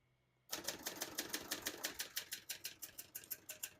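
Rapid, steady keystrokes on a 1967 Hermes 3000 portable typewriter clatter close by after a brief quiet start, each strike crisp and mechanical in an even rhythm.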